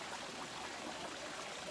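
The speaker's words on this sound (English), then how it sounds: "I'm back out here by the waterfall." A waterfall outdoors makes a steady, even broadband rush, faint and distant-sounding, unbroken through the short stretch with no voices.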